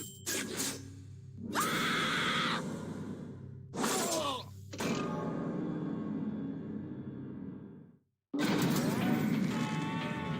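Cartoonish cow moos from a Jackbox party video game sound out in several long, loud bursts, each a sustained bovine call with brief gaps, over a steady game music bed.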